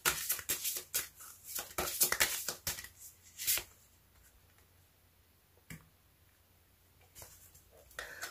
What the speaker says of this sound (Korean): 조언점 카드 한 장 더 뽑아보도록 할게요